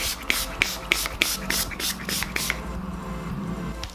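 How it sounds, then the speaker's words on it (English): Beauty Bakery setting mist sprayed onto a face in a rapid run of about eight short, hissing pump bursts close to the microphone, followed by a quieter stretch. "I'm gonna use my Beauty Bakery setting mist, and then I'm gonna use my Urban Decay All Nighter spray."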